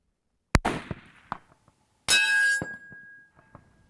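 A rifle shot cracks sharply and, moments later, a steel target rings with a bright sustained metallic clang that slowly decays, both loud and near in otherwise quiet surroundings.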